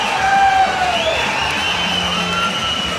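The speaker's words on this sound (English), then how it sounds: "This crowd is electric. They are amped, they are pumped up, they're ready to go." Crowd at a WCFC II mixed martial arts event cheering, whooping and yelling in a steady, loud roar of overlapping voices.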